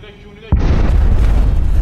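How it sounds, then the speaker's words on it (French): A sudden loud boom from a second explosion breaks in after a quieter stretch, followed by heavy low rumbling and crackling debris noise that continues to the end at high level. "Vous venez d'entendre la seconde explosion comme moi."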